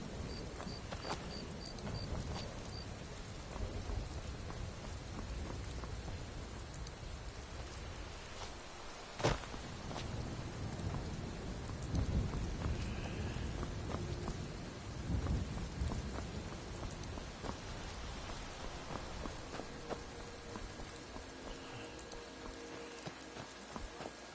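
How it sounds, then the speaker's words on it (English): Steady rain pours throughout in the video game Skyrim Special Edition, with a sharp crack of thunder midway and low rumbling after; continuous broadband hiss, fairly loud, no voices. "It's raining."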